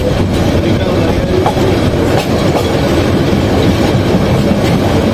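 The Kishorganj Express pulls away from the station in Bangladesh with a steady, loud rumble and clickety-clack of wheels on rails, heard continuously from on board without any voices.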